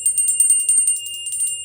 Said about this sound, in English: bell sounds, ringing the bell, okay, to call in that spirit